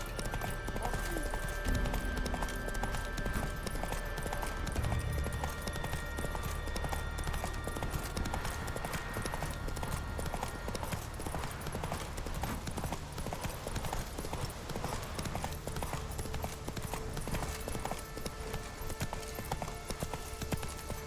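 Hooves of a horse in the video game Witcher 3 clip-clopping in a steady, even gallop that runs on without a break, with light game sounds and occasional speech in the background.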